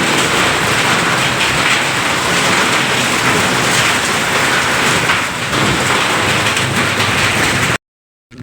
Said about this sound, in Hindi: दोस्तों अभी तक बारिश गिरना बंद नहीं हुआ है, थोड़ा थोड़ा गिर ही रहा है।